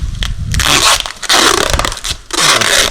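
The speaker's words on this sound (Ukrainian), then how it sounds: "І обмотуємо скотчем." Adhesive tape pulled off a roll in several loud, rasping tearing bursts while wrapping a parcel, close up, with short pauses between pulls.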